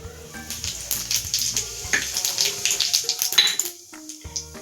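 Cumin seeds sizzle in hot oil in a pan while cooking Gujarati potato bhaji, with steady frying hiss under frequent metallic clinks and scrapes of a utensil against cookware.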